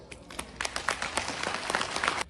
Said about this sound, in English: So let's give Abel and Grove a big round of applause.